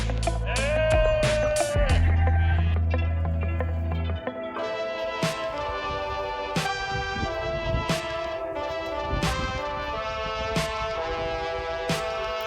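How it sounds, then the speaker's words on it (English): Repeated bleats from a sheep trapped by its horn, loud and close, one after another over a busy outdoor background with clattering noises. "We saved a sheep."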